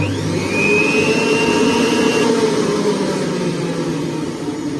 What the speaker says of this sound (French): vous pouvez déjà entendre un petit peu le bruit qu'elle fait. Donc vitesse numéro 1.